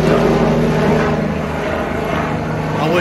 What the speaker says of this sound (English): Yeah, that's a helicopter.